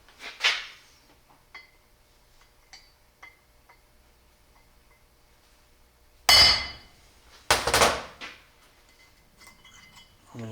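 A sharp chisel strikes and splits the worn wear rings off a 671 blower, giving two loud metallic hits about a second apart with ringing tails, preceded by lighter taps and clinks in an otherwise quiet shop.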